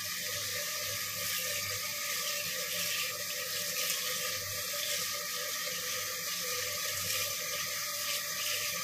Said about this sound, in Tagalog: Hugasan natin ang ating na-harvest na toge.